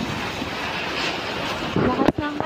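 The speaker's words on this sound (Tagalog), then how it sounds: "Lakas ng hangin." Steady, rushing wind from Typhoon Ulysses at night buffets the microphone by a window throughout, with a brief thump and low hum near the end.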